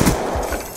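Burst-fire pistol in a gun game video game, a quick cluster of several rapid shots packed into under a second, loud and close, without speech.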